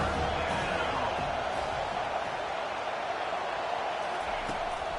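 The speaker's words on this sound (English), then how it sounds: "Decibels rising as the crowd gets behind this defense on 3rd down." Stadium crowd at a football game roaring steadily as it rallies behind the defense on third down, a dense continuous wall of noise with no breaks.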